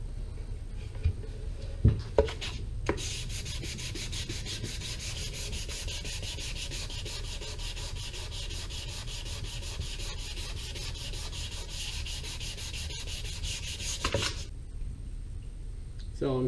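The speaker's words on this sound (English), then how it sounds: "So I'm still on my first pass of sanding." Steady dry rubbing of sandpaper across a wooden guitar body on a first sanding pass. The scratching runs continuously for about twelve seconds, fairly close, with a few light knocks at the start and a pause near the end.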